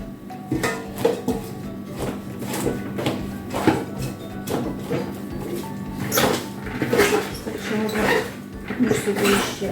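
Cabbage being packed and pressed down into a pot, with clattery kitchen knocks, rustles and dish-like clinks repeating throughout under faint background sounds.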